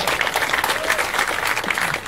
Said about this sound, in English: Let's give Highland Capital a big round of applause